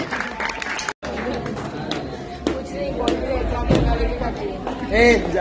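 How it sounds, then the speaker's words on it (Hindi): Children are applauded at a prize ceremony in a Ganpati pandal, scattered clapping mixed with crowd chatter and voices, a short dropout near the start and talk continuing over it. "तालियां हो जाए"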